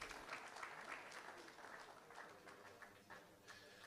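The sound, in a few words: applause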